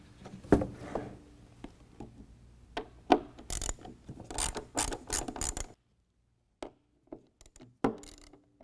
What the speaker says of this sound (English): What we're going to do is take a T25 Torx and remove those 3 bolts that hold this bracket on